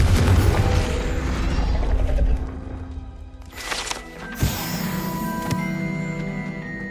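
A Confringo fire spell blasting in Hogwarts Legacy, a loud booming burst with crackling energy near the start, then a second sharp impact midway followed by ringing magical tones and mechanical rumble.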